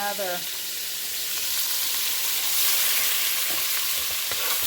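Spoonfuls of sofrito dropped into a hot pan for arroz con gandules, bursting into a loud, steady hiss that holds and intensifies throughout, close up with no talking.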